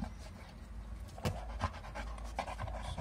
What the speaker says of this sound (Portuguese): Vocês podem ver a cachorra não me deixa em paz, né?